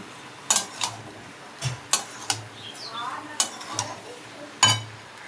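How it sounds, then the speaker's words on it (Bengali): Meat is being stir-fried kosha-style in a pan, with a spatula clinking and scraping against the metal in irregular sharp strikes over a low sizzle, close and moderately loud. "এই যে মাংসটা কষাচ্ছি"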